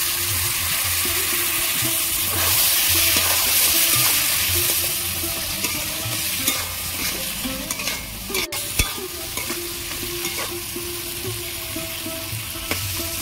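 Fish heads are stirred and broken up in frying spice masala for a cabbage and dried-fish dish, with a loud sizzle easing off as scraping, clacking strokes repeat unevenly close by.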